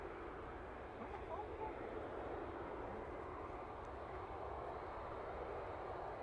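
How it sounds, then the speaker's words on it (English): An airliner takes off at Manchester Airport, producing a steady, broad jet roar that holds at an even level throughout, heard from a distance. "Lovely butter takeoff."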